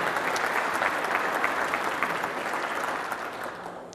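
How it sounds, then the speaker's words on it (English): A county audience at a 2019 State of the County address gives sustained applause, a dense wash of clapping that fades slightly toward the end. "Give us all a round of applause."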